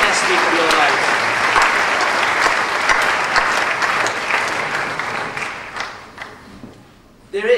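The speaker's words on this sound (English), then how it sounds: "Give them a round of applause" Audience applause after a welcome speech at a university freshers' week event, a loud sustained wash of clapping from a large crowd that holds steady for several seconds before tapering off near the end.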